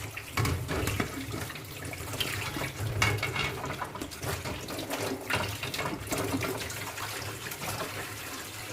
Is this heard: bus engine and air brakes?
no